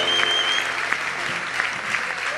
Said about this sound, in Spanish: Dale un aplauso bien fuerte al Rey.